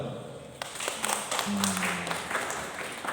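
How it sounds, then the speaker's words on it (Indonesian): A crowd claps in steady applause at a book discussion event, a dense patter of hand claps at moderate loudness, with a faint tonal hum in the background. "Sekali lagi tepuk tangan."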